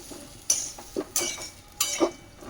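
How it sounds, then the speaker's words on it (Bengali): Spoon stirring a potato dish in a pan after lemon juice is squeezed in, with soft rhythmic scraping and clinks in four or five strokes over a quiet background. "এটা নিচুড়ে ভালো করে মিক্স করে দিচ্ছি।"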